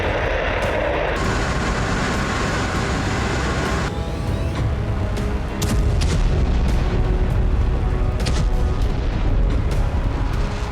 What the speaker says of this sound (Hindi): रूस अब कुर्स्क में फैब 500 बॉम्ब से हमला कर रहा है।